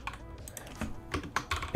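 Rapid, uneven clatter of computer keyboard keys being typed, with sharp clicks bunched in short bursts, close and fairly quiet, with no voice.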